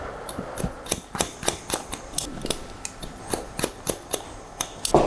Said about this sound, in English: And we cut in nice short sections.